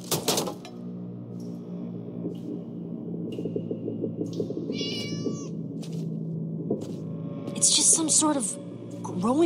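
Cats meow in the Minecraft Story Mode video game, a few faint calls heard over a droning game soundtrack, with a brief chime and rustle midway.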